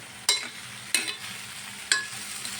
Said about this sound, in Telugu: మ్యాక్సిమం కుదిరిన దాకా ఇలా మ్యాష్ చేసేసుకోండి.